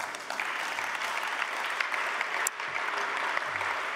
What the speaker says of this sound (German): ja, ihr dürft klatschen.